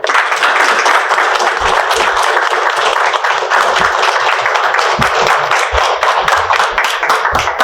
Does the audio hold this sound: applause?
yes